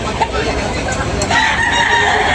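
Roosters crowing and clucking amid crowd babble at a chicken auction expo in Tabunok, Talisay, one brief crow rising over the murmur of people nearby.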